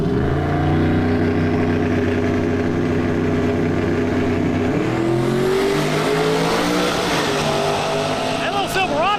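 A turbocharged Chevrolet Silverado and a Ford F-150 drag race at a street-style racing event, their engines droning loudly and then rising in pitch as they accelerate hard down the strip. An announcer's voice is mixed in.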